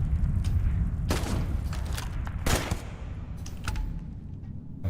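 Rifle firing in Starfield, several loud, sharp close shots in quick succession with heavy low-end rumble and echoing tails, standing out from the game's ambient noise.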